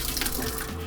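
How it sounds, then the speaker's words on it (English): Water from a pot of cooked black dal pours out into a sink in a brief, steady gushing splash, close and fairly loud, with no talking. "I can drain the water from it"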